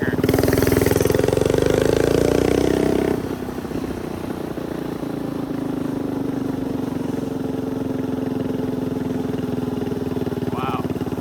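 Stretched mini bike engine fitted with an aftermarket exhaust, intake and bigger carburetor jets, revving loud and close for about three seconds, then dropping to a steady, lower droning run.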